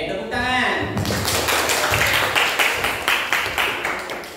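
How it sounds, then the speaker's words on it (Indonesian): A school class applauding together, a short burst of many hands clapping in a rhythmic, slightly uneven patter after a teacher's voice, filling a classroom. "Oke, tepuk tangan."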